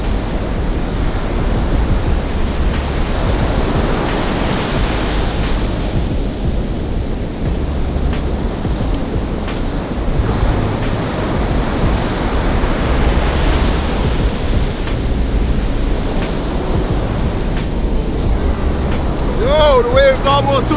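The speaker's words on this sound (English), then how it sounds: "Waves are a bit rocky, so I can't promise you guys that I'm gonna be swimming in there" Surf rolling in continuously on a Jamaican beach with rough, choppy waves, a loud, steady wash with wind buffeting the microphone throughout and no break in the roar.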